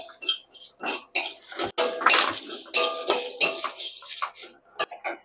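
Cumin and fennel seeds dry-roasting in a pan for homemade mango pickle give close, busy scraping and rattling bursts, with crackling and clinks of a utensil against the pan, and no talk.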